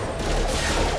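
Rapid gunfire fusillade in the Mass Effect 2 video game, a dense continuous burst of shots lasting about a second, loud and close with no pauses.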